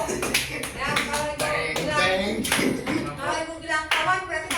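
A classroom of students clapping on a teacher's cue during a lesson, with bursts of many hands clapping together in an irregular rhythm, close and fairly loud, mixed with shuffling and a voice.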